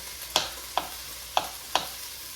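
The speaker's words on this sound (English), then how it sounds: "You hear that meat simmering in the back." Turkey meat cooking in a pot for a turkey lasagne gives four sharp, crackling pops spaced at uneven intervals over a faint, steady sizzle.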